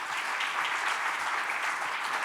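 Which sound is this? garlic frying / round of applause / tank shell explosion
round of applause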